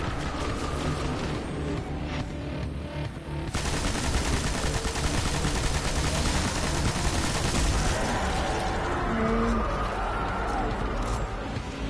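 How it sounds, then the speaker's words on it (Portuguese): Sustained machine gun fire in the video game Destiny, a dense continuous rattle of shots with game explosions and effects mixed in, steady and loud throughout. "Usei a minha metralhadora fortuna."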